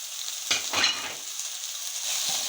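Onions hit hot oil with a sudden loud hiss, then settle into a steady, close sizzling fry.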